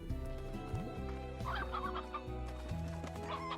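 Chickens cluck repeatedly in the video game Slime Rancher over a low, steady musical backdrop, several short clucks scattered across the few seconds.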